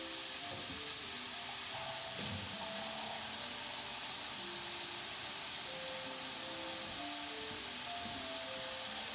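Two cups of washed jasmine rice sizzling in a hot pan, a steady close crackling hiss with soft stirring scrapes, growing busier as the pan heats; no one speaks.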